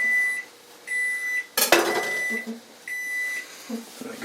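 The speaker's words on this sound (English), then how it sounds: "Make sure you hit stop on the timer, otherwise it'll just keep beeping at you" A kitchen timer on a microwave oven beeping in short repeated bursts at a steady rhythm, with a sharp clatter in the middle and faint movement between the beeps.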